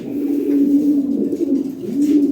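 Belgian-bloodline racing pigeons coo in a low, rolling, repeated call, close and fairly loud, two or three throaty phrases running one into the next with no talk.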